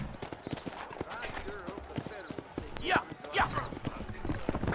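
Hooves of a horse clatter in a fast clip-clop rhythm in the Western video game Red Dead Redemption, loud and close, with occasional whinnies and game characters talking over the hoofbeats.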